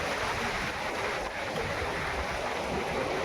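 Continuous loud roar of floodwater pouring through the nine open gates of Dondi dam after heavy rain, a dense, unbroken rush heard alone.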